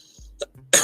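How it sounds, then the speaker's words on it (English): A single sharp cough bursts out at the end, preceded by quiet breathing and a small throat noise, close to the microphone. "Sorry to cough in your guys' ears"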